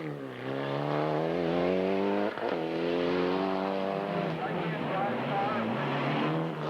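A rally car launches from the start line on a Maine forest stage, its engine climbing through revs with rising harmonics, a brief gear-change dip, then continued hard acceleration, loud and close.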